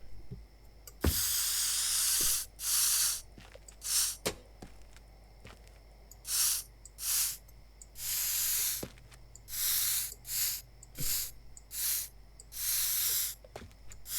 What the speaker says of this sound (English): Okay, we've got a spray can.